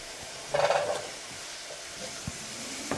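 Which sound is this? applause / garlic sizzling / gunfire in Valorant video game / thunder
garlic sizzling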